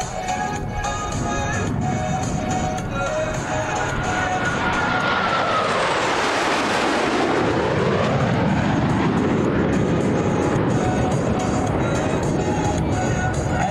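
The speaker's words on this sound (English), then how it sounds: "you have seen firsthand the ability of a tactical aircraft at high speed to sneak into a target area" A Blue Angels tactical jet roars past at high speed over the Cleveland National Airshow in 2024, its engine noise rising to a loud peak with a sweeping pitch shift as it passes close and then fading away, while an announcer talks over it.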